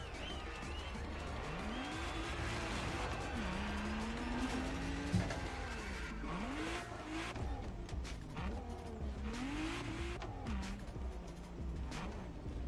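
Car engine drones steadily in The Crew Motorfest racing game, with rising and falling pitch sweeps and tire squeals and skids recurring throughout, loud and close with no talk.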